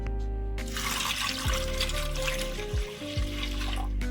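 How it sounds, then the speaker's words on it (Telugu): Water pouring into a pressure cooker holding chickpeas: a continuous close splashing stream, with a few gulping, bubbling swells as the level rises. "ఇప్పుడు దీంట్లో ఒక పెద్ద గ్లాస్తో వాటర్ వేసేసుకుందాం"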